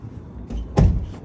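An apartment's security door in Rosarito, Mexico is handled close by, giving a brief rattle followed by a single solid metallic clunk.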